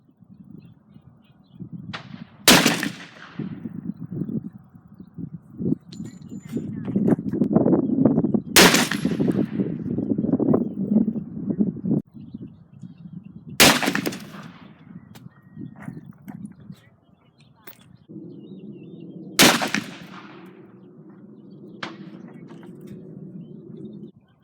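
Four sharp, loud .44 Magnum shots from a 6.5-inch Smith & Wesson Model 29 revolver, spaced several seconds apart, each a crisp crack with a short ringing tail over low outdoor rumble and handling noise.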